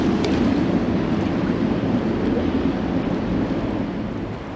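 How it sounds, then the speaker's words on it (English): Steady, heavy wind buffets the microphone beside the River Trent, a dense roaring rush that barely varies before easing slightly at the end, with no voices. "So if the wind settles down a little bit,"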